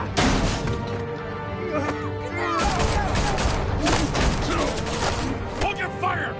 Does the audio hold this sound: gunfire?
yes